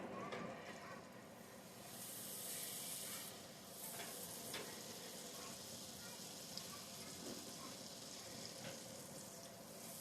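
Butter melts in a pan for gravy, giving a steady, soft sizzle with faint stirring and scraping over about ten seconds, quiet and continuous.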